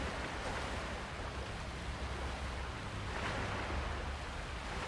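Underwater ambience after falling into water in Sekiro: a steady muffled rushing wash, continuous and enveloping with no distinct events.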